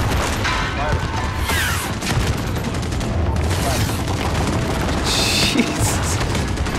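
Dense, chaotic barrage of explosions and rapid gunfire in the Modern Warfare video game, loud and continuous with heavy booms and crackling blasts throughout, and bursts of bright noise standing out over the din.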